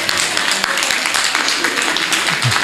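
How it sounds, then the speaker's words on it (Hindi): An audience claps steadily and loudly for about three seconds, a dense wash of applause filling the whole stretch without a break. "इनके लिए जोरदार ताली बजाएं।"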